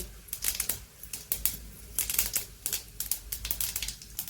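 Mustard seeds and cumin splutter and pop in hot oil in a home kitchen, bursts of sharp crackles coming in irregular clusters, close and fairly quiet.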